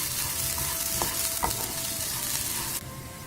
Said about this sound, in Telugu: ఇప్పుడు ఇలా తిప్పుకుంటూ పచ్చివాసన పోయే వరకు కూడా ఈ పప్పుని వేయించేసుకోండి